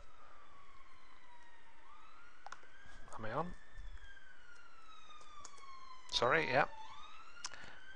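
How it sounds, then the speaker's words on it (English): A police siren wails steadily in the background, rising and falling, while a person speaks briefly over it. "Ignore the police siren in the background."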